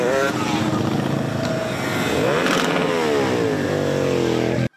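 Motorcycles ride in a parade along a road, their engines loud and close, revving with climbing and falling pitch as they pass, and the sound cuts off abruptly at the end.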